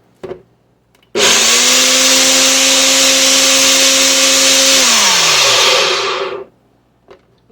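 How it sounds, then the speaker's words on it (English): Electric spice grinder whirring through dried Italian seasoning flakes, one loud continuous burst of about five seconds with a steady motor pitch that drops as it spins down, with faint clicks before and after. "I'm going to go ahead and grind it some more"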